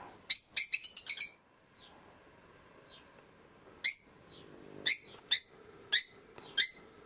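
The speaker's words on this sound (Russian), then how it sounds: "И ему слышно, как птицы поют." Birds sing outside an open window, with bursts of bright chirping and trills clustered at the start and then repeating at intervals, plus a few faint distant calls in between; no one speaks.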